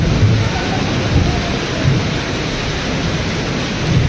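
Heavy rain pours down continuously during a flood in Wuhan, a dense, loud hiss with low thunder rumbling underneath, steady throughout with no voices.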